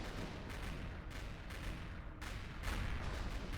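An artillery turret fires in the sci-fi survival game Empyrion Galactic Survival, giving about five heavy booming blasts at uneven intervals over a constant rumbling battle din.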